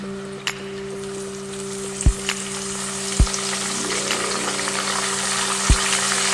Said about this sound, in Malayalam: ഈ സമയത്ത് നമുക്ക് ഇതിലേക്ക് ഉപ്പും മഞ്ഞൾപ്പൊടിയും കൂടി കൂട്ടി കലർത്തിയ വെള്ളം ഒഴിച്ചു കൊടുക്കാം.